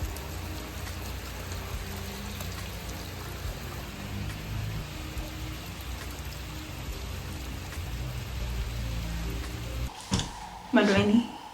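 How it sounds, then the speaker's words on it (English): Steady rain falls outside on a cozy day in the Netherlands, a dense even hiss holding for most of the stretch before a few brief louder sounds close it out. "It's raining outside."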